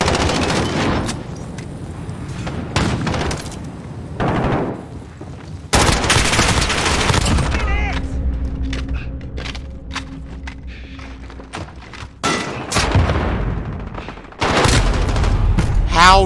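Gunfire from a shooter video game bursts out in loud, rapid volleys separated by quieter gaps, with brief voices and footsteps in between.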